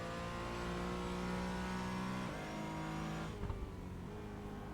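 A Porsche Cayman on the Zolder race track pulls hard under acceleration, its engine note rising steadily with a gear change midway, then picking up again, heard loud and close from inside the car.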